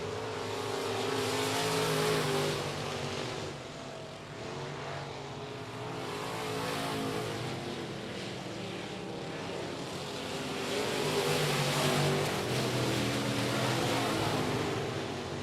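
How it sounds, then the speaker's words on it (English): IMCA modified race cars roar around a dirt speedway at I-37 Speedway, a loud continuous engine drone that swells and fades as the field passes, with a public-address announcer talking over it. "Doyen absolutely dominating in that 5R IMCA modified."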